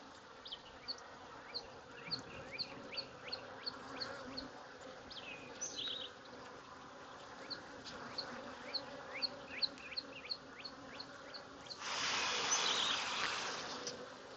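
Bees buzz steadily around an open hive during an inspection for small hive beetles and emergency queen cells, with a louder, denser swell of buzzing near the end.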